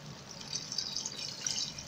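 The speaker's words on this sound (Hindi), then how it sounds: "अब इसमें हम पानी शामिल करेंगे।" Water poured into a pot of beef polao with yogurt, spices, meat and green chilies: a steady, soft hiss of liquid running in for about two seconds, fairly quiet, with no talking.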